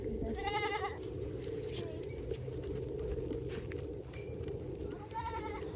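Goats on a snowy winter farm bleat twice, once near the start and again near the end, over a steady rumble of wind or farm background noise with faint scuffing of movement.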